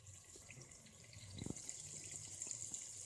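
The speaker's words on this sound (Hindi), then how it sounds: "तो अब हम इसमें पानी ऐड कर देते हैं" Water is poured into a potato and egg curry, a quiet splash and steady trickle of liquid in a kitchen, faint against low background hum.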